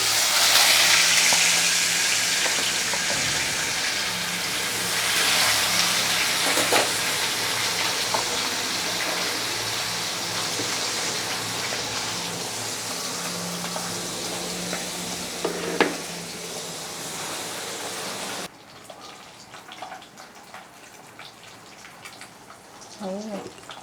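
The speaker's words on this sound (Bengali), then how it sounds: "মাছগুলোকে আগে ভেজে নিচ্ছি।" Featherback (foli) fish sizzles loudly in hot oil with occasional clinks of stirring, before the frying suddenly drops to a much quieter bubbling.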